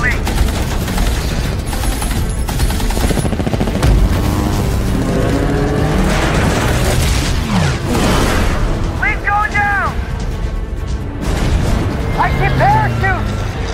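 Bombers in a World War II aerial battle against German fighters, from a 2024 American drama series: dense bursts of machine-gun fire, booming explosions and roaring engines, with loud continuous rumble and whining swoops throughout.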